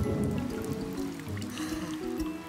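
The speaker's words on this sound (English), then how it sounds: "Is the rain ever going to stop?" Rain pours steadily in a Tinga Tinga Tales cartoon, a dense patter and trickle of drops on surfaces throughout, with no talking.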